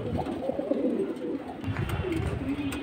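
A pigeon offered for sale coos up close in low, throaty, rolling calls that repeat through the short stretch.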